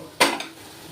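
A single metal spoon scraping and clanking in a pan of paneer curry with potatoes, one sharp stroke followed by a softer knock, close and alone.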